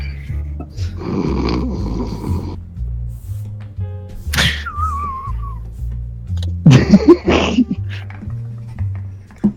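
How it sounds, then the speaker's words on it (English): A sleeping woman with closed eyes snores in two loud, rasping bursts, heard over low background music. "Her eyes are actually closed and she is snoring."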